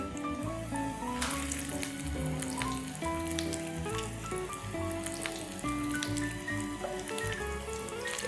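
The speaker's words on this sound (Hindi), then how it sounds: "इसे 2 मिनट तक एक साइड से फ्राई करना है, जब तक ये ब्राउन नहीं हो जाए" Mutton shami kebabs fry in oil in a pan with a steady, close sizzle and crackle running throughout, backed by light clinks and soft music.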